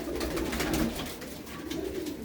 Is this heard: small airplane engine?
no